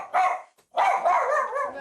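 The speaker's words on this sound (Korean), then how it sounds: "문 앞에서 우렁차게 짖는 녀석" A dog barks loudly at the front door: two close, forceful bursts of barking separated by a short pause.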